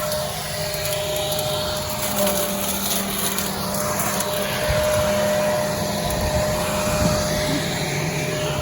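A leaf vacuum roars steadily as it sucks up leaves in a vegetable garden, a loud, close, unbroken whine with a constant tone and slight shifts in intensity.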